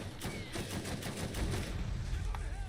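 Rapid automatic fire from turrets in the Borderlands video game, a dense rattling barrage of shots over layered game noise, steady and fairly loud for the whole stretch.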